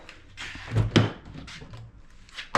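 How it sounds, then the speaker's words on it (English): A car door on a Honda CRX with 3D-printed wide fenders opens with a short creak and a solid thunk, close by, followed by light rustling and a sharp click at the end. "Door opens up, doesn't hit the fender."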